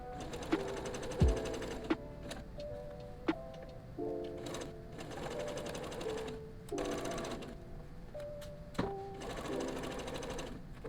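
A sewing machine stitching quilting fabric for a beginner quilt block, running in steady humming bursts that stop and restart, with occasional clicks and thumps between runs.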